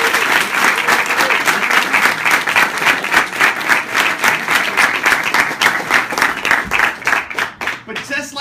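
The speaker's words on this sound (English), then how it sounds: "we just want to give you a round of applause and welcome you to the family" A large audience at an evening presentation applauds steadily for several seconds, dense loud clapping that carries on evenly and then begins to thin out near the end.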